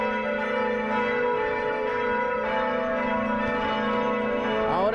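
Cathedral church bells ring steadily in a sustained, loud, resonant wash of overlapping tones, calling to mass, with no talk over them.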